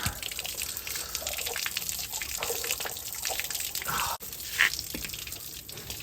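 Water gushing and splashing steadily as it is flushed through the chassis rail of a V8 RN46 Toyota Hilux, close and continuous with a brief dip and a few drips near the end.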